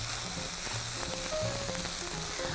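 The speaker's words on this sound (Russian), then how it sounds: "И отправляю гречку. Все хорошенько перемешиваю." Steady, loud sizzling of buckwheat frying in a pan, with faint scraping as it is stirred; no talking.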